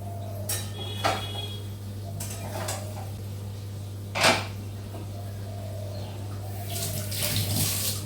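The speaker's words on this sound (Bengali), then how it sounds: "এই রান্নাঘরের কলের জলটা না এত গরম সবজি টবজিগুলো ধুচ্ছিলাম" Hot water runs steadily from a kitchen tap while vegetables are washed, with intermittent splashes and soft clinks of dishes and utensils rising over the constant flow.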